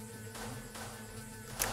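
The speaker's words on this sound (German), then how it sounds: "Die Fliege muss weg!" A fly buzzes steadily in the adventure game Chaos auf Deponia, a thin continuous hum under game ambience, with a brief brighter blip near the end.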